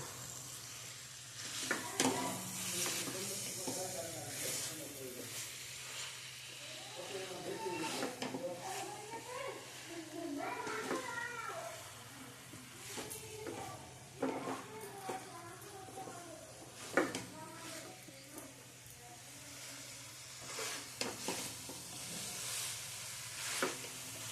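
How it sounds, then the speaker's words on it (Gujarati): Kantola (spiny gourd) curry cooks in oil with spices and is stirred, giving a continuous sizzle with occasional scraping strokes while a person talks over it. "હવે આપણે શાકને હલાવી નાખીએ"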